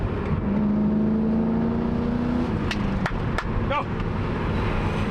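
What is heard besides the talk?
Audi S3 performance car accelerating at high RPM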